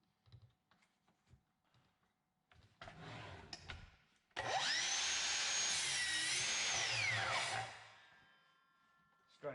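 A Bosch BiTurbo compound sliding mitre saw cuts through weathered old wood: faint taps and handling first, then a loud, whining motor run with a rising and falling tone for several seconds before it spins down.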